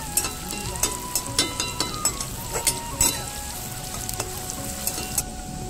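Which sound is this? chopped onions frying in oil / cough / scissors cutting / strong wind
chopped onions frying in oil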